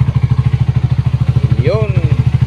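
A motorcycle engine that has just had its throttle body cleaned runs up close with a fast, even, thumping idle pulse, and a short voice-like sound breaks in near the end.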